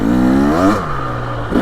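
A 2023 Husqvarna TX300 dirt bike with a TBI engine revs hard on a wet, leaf-covered trail, its pitch climbing quickly before it drops to a lower steady drone, loud and close.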